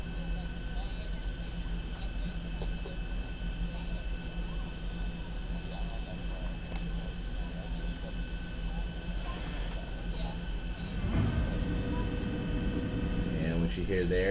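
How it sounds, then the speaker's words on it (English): Steady airplane cabin roar during a landing approach with a persistent hum, then a louder rumbling shift as the landing gear lowers; a voice speaks briefly under the noise. "those are the landing gear going down."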